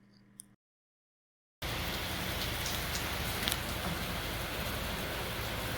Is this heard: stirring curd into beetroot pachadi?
no